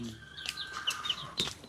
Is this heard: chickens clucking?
yes